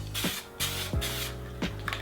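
An aerosol spray can hisses in three short bursts as AutoDip goes onto a car wheel in a very light first coat, each spray loud and near with brief pauses between.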